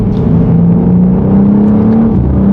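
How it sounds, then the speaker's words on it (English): BMW M2 G87 engine revving up through a gear change, a steady loud drone that climbs in pitch and briefly drops at the shift near the end, heard from inside the car. "they've managed to bring that mechanical gear change back into the driving experience"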